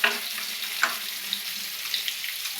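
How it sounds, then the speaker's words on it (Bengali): Potatoes fry in a hot wok for chili chicken, with a continuous, fairly loud hiss of oil and a few small pops and crackles. "কড়াইটা গরম হয়ে গেছে, এখন আমি আলু ভাজা করছি।"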